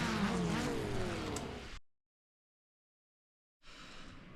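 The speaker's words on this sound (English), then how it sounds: "you can hear from the kind of panic revs from both of us there how excited we were" Formula Ford 1600 race cars in iRacing at Oran Park give quick panic revs, a burst of rising and falling engine sweeps, then a gap of silence before the engine noise resumes.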